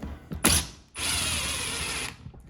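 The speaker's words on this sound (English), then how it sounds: "So now I feel comfortable tightening the U-bolt back here, which I'll do." A U-bolt is tightened to clamp a drill into a ratchet drill mounting system. Two short mechanical bursts bracket a steady one-second whirring ratchet or gear run, close and alone.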